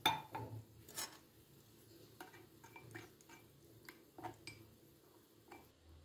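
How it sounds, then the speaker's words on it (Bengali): A spoon stirs cornflour and water together in a bowl for Manchow soup, clinking and tapping against the sides in irregular, close strokes over a low kitchen hum. "এবারে একটু জল দিয়ে এই কর্নফ্লাওয়ারটা আমি গুলে নেব।"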